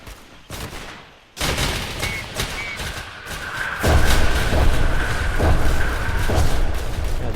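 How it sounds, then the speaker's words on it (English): Sustained battlefield barrage in the video game Entrenched, with dense rapid gunfire and heavy booming blasts that grow louder partway through, forming a continuous loud roar of overlapping shots and thuds. "They rely on a good attack with artillery."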